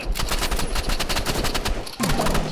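Rapid automatic gunfire rattles in a fast, continuous stream during a shooting video game, loud and close, with a short shift in tone near the end.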